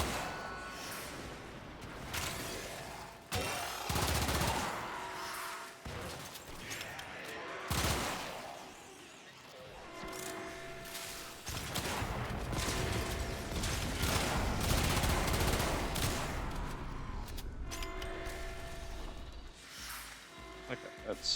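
Gunfire from the Nail Prime weapon in Warframe, repeated bursts of rapid shots with mechanical clatter, heard alongside other game sounds and a voice talking.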